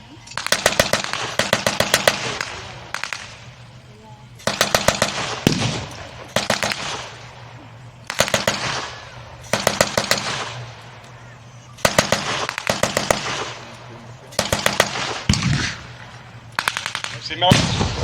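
Battle reenactment gunfire with German mortar fire, outdoors at a show: repeated bursts of rapid machine-gun and rifle shots in regular volleys, loud and fairly close, with a steady engine rumble underneath and occasional voices.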